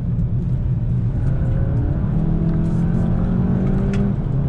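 A 2019 VW GTI with a dual-clutch gearbox and limited-slip differential rapidly downshifts and accelerates hard, its engine note rising and dropping through quick gear changes, loud and close throughout.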